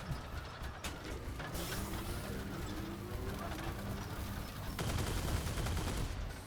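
Weapon fire from the Crossout vehicle combat game, with a Kaiju weapon on a Humpback clan wars build: dense, loud, continuous gunfire and mechanical noise that swells again near the end.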